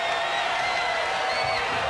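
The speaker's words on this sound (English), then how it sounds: "The crowd loves it." Crowd noise from spectators at a Wild West shootout competition, a steady dense roar of cheering and whooping that fills the whole stretch evenly and fairly loud.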